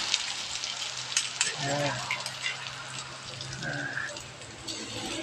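Garlic, onion and black pepper frying in a hot pan give a soft crackling sizzle with a few stirring clinks and scrapes, moderately quiet and close, with no clear speech.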